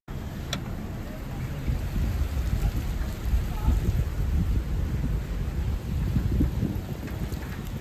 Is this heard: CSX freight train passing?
no